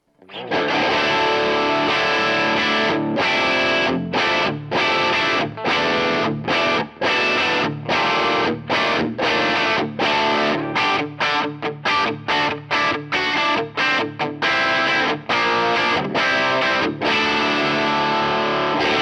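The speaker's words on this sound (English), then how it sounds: "It's a little bit darker than the original sound, but basically it gives you the same sound with more gain." A heavily distorted electric guitar played through an overdrive pedal into an Orange Rockerverb amp at breakup plays loud, gritty chords in a steady chugging rhythm with brief stops, continuous throughout with no talking.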